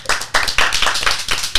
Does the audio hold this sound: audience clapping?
yes